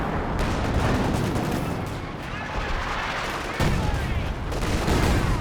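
Dense, continuous battlefield gunfire and booming artillery from Company of Heroes 2, with howitzer shelling mixed into steady rumbling explosions and small-arms fire throughout, loud and unbroken.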